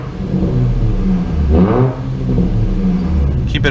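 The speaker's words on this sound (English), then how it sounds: "here's a little rev" Car engine revved once in a closed area near houses, a loud steady idle rumble swelling into a short rising rev around the midpoint before settling back, close by with no talk.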